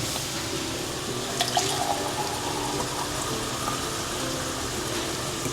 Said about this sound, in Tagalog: So, maglalagay na tayo ng tubig.